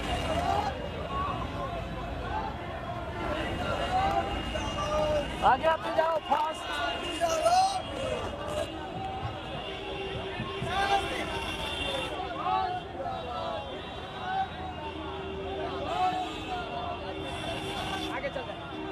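A bustling crowd at a packed gathering in Bihar, with a steady murmur of many voices and shuffling movement while a man calls out to people close by.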